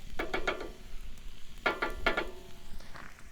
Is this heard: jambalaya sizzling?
yes